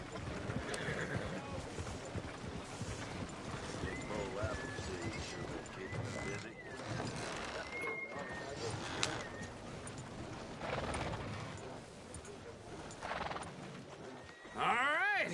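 Horse hooves clip-clop at a walk while arriving at stables in Red Dead Redemption 2, with a horse whinnying at the end and voices talking over the steady hoofbeats.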